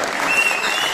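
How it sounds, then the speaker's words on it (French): An audience at the opening ceremony of an international urban arts festival at a French cultural institute gives a brief, dense round of applause, steady and fairly loud. "Applaudissez les citoyens."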